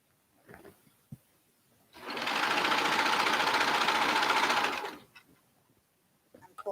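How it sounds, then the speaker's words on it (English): A sewing machine stitching baby leggings runs in one steady, continuous whir for about three seconds, close and clear, with soft fabric handling sounds before and after. "Keep sewing."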